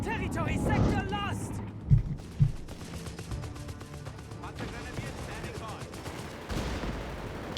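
Machine gun fire from an MG 34 in the Company of Heroes 3 strategy game, with a couple of sharp bursts standing out among other gunfire and battle noise, while a commentator talks throughout.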